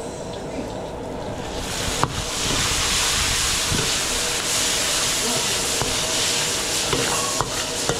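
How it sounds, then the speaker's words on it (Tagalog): Garlic and onion sauté in a hot pan with a sustained sizzle and hiss, broken by occasional scrapes and clicks of a stirring utensil; nobody speaks over the cooking. "Bawang sibuyas, nagisa na tayo."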